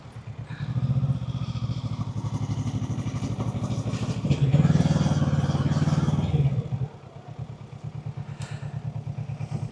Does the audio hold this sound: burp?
no